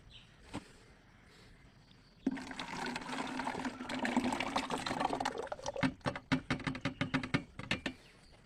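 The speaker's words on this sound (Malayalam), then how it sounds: "ഇനി ഇതിനെ ഞാൻ കഞ്ഞിവെള്ളവും ചേർത്ത് എൻ്റെ ഇതുപോലെ ഒരു കുപ്പി എടുത്തതിന് ശേഷം ആ കുപ്പിയിലേക്ക് ഒഴിക്കുകയാണ്" Fermented rice-water mixture with ground rice being poured into a bottle: a quiet start, then a sustained gurgling liquid stream, ending in a run of glugging splashes as the bottle fills.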